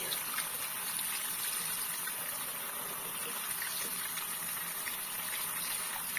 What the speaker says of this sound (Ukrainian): Дуже ретельно промиваю, щоб там нічого від болота не залишилося.